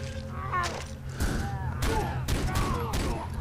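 Revolver shots ring out in the video game Far Cry 3, several sharp bursts in quick succession over a background of game sounds.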